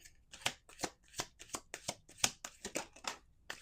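Playing cards are shuffled close up in quick bursts of riffling and snapping, a rhythmic series of crisp flutters.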